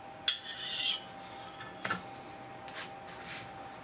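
An adjustable diamond hone rubs along the curved edge of a woodworking gouge in a few faint, close scraping strokes with short pauses between them.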